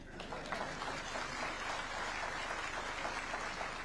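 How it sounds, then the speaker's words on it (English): Sustained applause from a large audience at a university graduation ceremony in Kisumu County, a dense, steady wash of many hands clapping at even loudness throughout. "A better round of applause for him."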